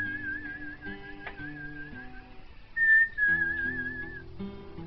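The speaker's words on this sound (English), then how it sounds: "Hey, come over here, I need a whistler." Someone whistles a wavering tune in a back garden in Newbold, Rochdale, fairly close and clear, with accordion-like musical chords sustained underneath and no talk.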